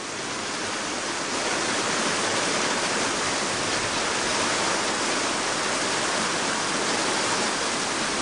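A flooded, swollen creek in Turkey, the Aksu, rushes beneath the Koca Köprü bridge as a steady, loud broadband roar of churning water that fills the whole stretch without a break.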